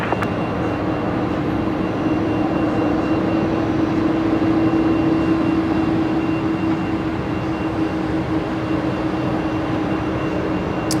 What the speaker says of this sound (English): heavy aircraft going to LAX